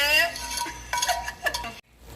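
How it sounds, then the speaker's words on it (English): Meat and onions sauté in a pan for carne con chile colorado, with a utensil scraping and stirring through the pan in several uneven bursts before a sudden stop. "I'm going to go ahead and saute them with the meat"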